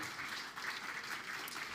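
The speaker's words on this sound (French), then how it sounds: "applaudissons celles et ceux qui viennent le défier" Audience applause fills a conference hall at the IA France Summit 2023, a steady, even wash of clapping held throughout at moderate volume.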